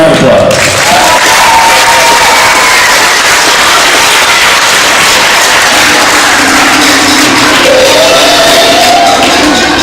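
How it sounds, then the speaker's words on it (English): Loud, sustained applause and cheering from a crowd after a school beginning band's spring concert performance, dense clapping filling the whole stretch with a few whoops rising above it. "Give them another round of applause"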